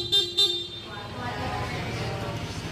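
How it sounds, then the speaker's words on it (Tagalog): Two short, sharp horn beeps from a 2025 Honda PCX 160 Road Sync ABS scooter sound at the start, followed by a steady low idle hum. "Busina."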